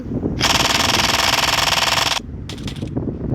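Rapid automatic gunfire from the video game Chicken Gun, one loud sustained burst of about two seconds followed by a shorter burst, close and alone.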